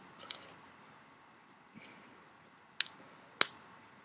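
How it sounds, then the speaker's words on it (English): A MacBook Pro keyboard key is pressed onto its scissor mechanism, giving a few sharp, close plastic clicks and snaps spaced apart in a quiet room. "So if I was to snap this in here real quick"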